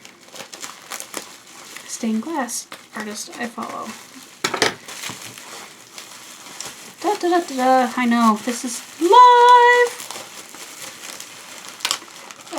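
Heavily taped package being unwrapped, with crinkling and tearing of tape and packaging in irregular bursts, close and fairly loud, while someone talks over it.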